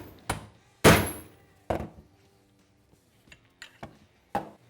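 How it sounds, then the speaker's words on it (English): Sharp metallic hammer blows drive an ATV ball joint into place through a socket. There are several spaced strikes, two loud and close, then a few lighter taps. "we'll have this socket to go around the top piece of our ball joint, and we'll hammer it down into place"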